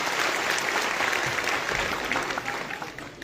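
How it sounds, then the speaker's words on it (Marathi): A crowd applauds MLA Devyani Farande at the Annabhau Sathe memorial inauguration marking his 106th birth anniversary, a continuous wash of many hands clapping, steady and full before tapering slightly toward the end. "टाळ्या झाल्या पाहिजे"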